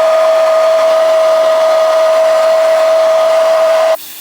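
A hair dryer blows on a lace frontal wig, a loud steady whine with a constant airy rush that cuts off abruptly near the end, leaving a quieter hiss.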